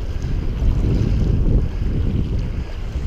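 Wind picks up on the Madison River in Montana, a loud, broad gusty roar buffeting close to the microphone with no speech.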